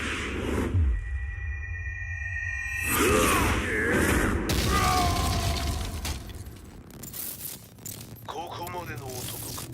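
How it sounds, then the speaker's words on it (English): A blast and shattering debris erupt at the Mishima dojo in Tekken 7, with booming low rumbles, metallic ringing and scattered crashes mixed with game effects and a voice speaking partway through. "Explosion confirmed at the Mishima dojo."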